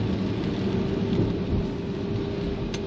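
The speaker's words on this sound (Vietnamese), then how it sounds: "Tới đây mưa nó bớt nè." Steady heavy rain with rolling thunder on a Saigon street near An Lac bridge, a dense continuous roar with a low rumble swelling underneath throughout, no voices.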